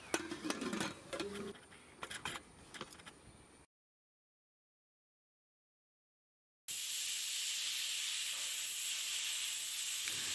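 Pressure cooker on the stove cooking pork for a Kerala-style pork roast: some clattering first, then a break, then a loud, steady, continuous steam hiss close by.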